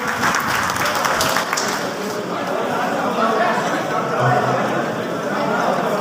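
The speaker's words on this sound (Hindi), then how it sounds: "जोरदार तालियों के साथ इनका स्वागत" Loud applause from a crowd welcoming a guest at a public felicitation gathering in Bhadra, a dense steady wash of clapping mixed with crowd chatter, sustained throughout without pause.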